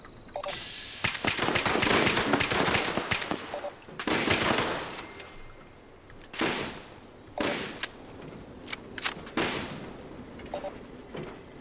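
Gunfire in the Fallout 76 video game: rapid automatic bursts of shots, loud and close, in a long opening volley, then shorter separated bursts and single cracks with brief pauses between.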